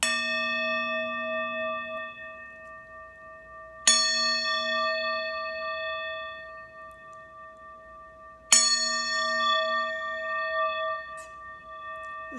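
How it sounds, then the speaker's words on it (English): A singing bowl is struck three times, each strike ringing out as a bright metallic tone that hums and slowly fades, with strikes spaced about four seconds apart in a quiet room. "So I'm going to just hit the singing bowl to bring us to center"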